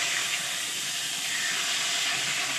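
Onions sizzle in hot oil for a chicken curry, a steady, close, bright hiss that holds evenly throughout with no voices.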